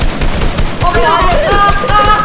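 Rapid automatic gunfire from a video game sounds as a dense, loud, continuous rattle, with a brief tonal game sound partway through and excited voices mixed in.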